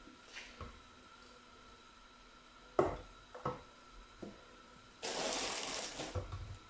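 Spinach and radish leaves rinsed under running tap water, with brief splashes and squishing handling followed by a steady louder stream near the end, quiet and close.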